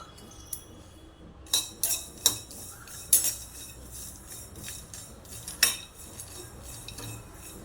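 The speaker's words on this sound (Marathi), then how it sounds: "इथे मी शेंगदाणे घेत आहे अर्धी वाटी आणि अर्धी वाटी तीळ घेऊया आपण आणि छान भाजून घेऊया" Peanuts and sesame seeds dry-roast in a pan while a metal spatula stirs them, giving a series of close, sharp clinks and scrapes at uneven intervals over a quiet background, with no voices.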